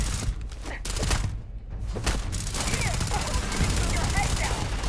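Gunfire in the sci-fi video game Starfield: dense rapid bursts of automatic fire and repeated shots, loud and close, with intermittent thuds and combat noise throughout.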